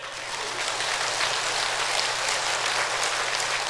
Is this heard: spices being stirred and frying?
no